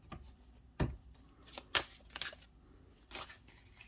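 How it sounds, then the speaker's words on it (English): Tarot cards are shuffled by hand in a quiet room, giving several soft, separate riffles and slaps at irregular intervals. "I just started shuffling and these guys jumped out"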